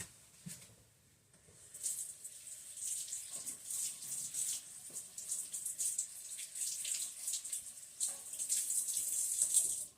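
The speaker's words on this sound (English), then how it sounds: "Now I gotta go rinse off the spoon." A kitchen tap runs steadily while a spoon is rinsed under it, a soft hissing stream with faint clinks and splashes as the water hits the spoon and the sink.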